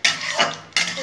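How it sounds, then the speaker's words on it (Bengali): Dry red chili and carom seeds sizzle in hot oil in a pan as a Bengali tempering is fried, with a steady close frying hiss and a brief stir or utensil clatter in the middle. "ফোড়নটা একটু ভাজা ভাজা হবে,"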